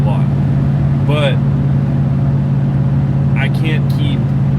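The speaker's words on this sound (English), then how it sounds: "So we got dual 2 3/4 in, dual 2 1/4 out, and it's ran all the way out the bumper with echo tips. The truck sounds really good." The 6.0 LQ4 V8 of a 2001 GMC Sierra idles steadily with a deep, even rumble through dual exhaust and echo tips, close and constant, while someone talks over it.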